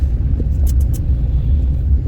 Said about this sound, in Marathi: ही बघा गाडी गेली